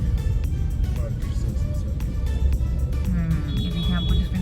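Busy traffic around the Gol Chowk roundabout in Sargodha, Pakistan: a steady, close engine rumble with passing vehicles, horn-like tones near the end and a murmur of voices in the background.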